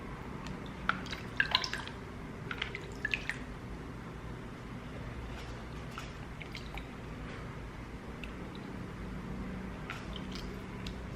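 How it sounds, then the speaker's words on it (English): Water scooped from a bowl and splashed onto a face during a skincare routine, a few soft wet splashes and drips clustered in the first few seconds, then quiet room tone. "I also have a bowl of water here. So I'm just gonna wet my face real quick."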